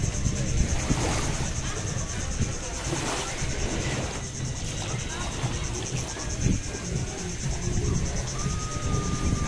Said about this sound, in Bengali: আর সাথে ঝিঝি পোকার ডাক,